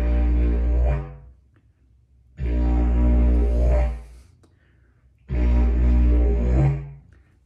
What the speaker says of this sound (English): the cool thing about the drone spit is that the resonance of the drone carries over into the spit